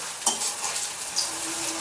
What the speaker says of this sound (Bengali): তো খুব আস্তে আস্তে করে মৈঠাটা ভেজে নিতে হবে আর খুব অল্প অল্প আঁচ করতে হবে